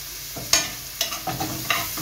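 Food sautés in oil in a pan, a low sizzle broken by several sharp scraping stirs in an uneven rhythm, close and fairly quiet with no talking.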